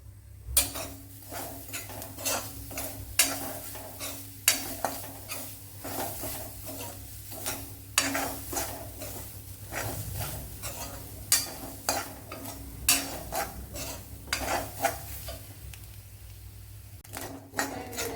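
Grated coconut roasting with cloves and fennel seeds in a pan for varutharacha chicken curry, heard as repeated scraping and clinking stirring strokes in an irregular rhythm over a faint steady low hum, with no talk.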